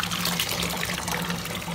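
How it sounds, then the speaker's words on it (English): Warm water runs steadily from a tap while natural virgin hair is washed with shampoo, a continuous close splashing trickle with a low hum beneath and no voices. "water with shampoo, and then just wash it like you would wash your own towel."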